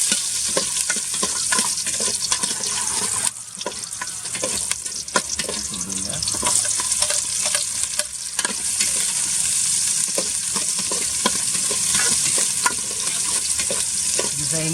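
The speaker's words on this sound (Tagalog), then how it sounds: "Isahin lang natin ito ng mabuti mga katrops." Garlic and ginger frying in a pan for a mung bean stew, with a steady sizzle and repeated stirring clatter running throughout, fairly loud and without talk.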